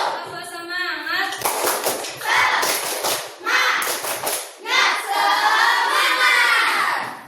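A primary school class does a clapping chant, with children's voices calling out in rhythm along with bursts of hand claps, close and lively, the chanting voices prominent throughout.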